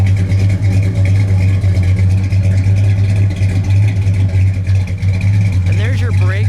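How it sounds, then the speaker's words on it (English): A black 1958 DeSoto Adventurer two-door coupe with a 361 cubic inch V8 and modified mufflers idles steadily, a deep continuous rumble close by, with people talking over it throughout. "Did you do something to the exhaust? Because it sounds really good."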